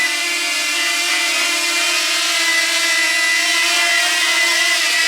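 A small DJI Flip drone whirs steadily nearby in a fairly strong wind, its high buzzing motor tone constant and loud throughout with no pauses.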